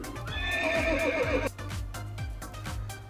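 A horse neigh plays through the external speaker of a Zeekr X electric crossover, a loud whinny close by that rises and trembles, then gives way to rhythmic hoofbeat-like thumps.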